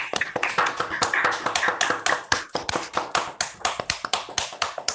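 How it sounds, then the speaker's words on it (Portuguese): Audience applause after a lecture on optical tweezers, a steady patter of claps from a modest group, close and fairly loud, thinning toward the end with no talk over it. "a gente deveria agora dar uma salva de palmas para o Paulo"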